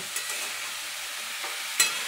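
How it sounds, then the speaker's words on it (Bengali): Radish stirred and frying in a pan, a continuous close sizzle with light scraping of a spatula and a sharp clink near the end, no talking. "মূলোতে বেশি ভাজার প্রয়োজন হয় না, একটুখানি নাড়াচাড়া করে নিয়ে এবারে মশলাটা দেবো"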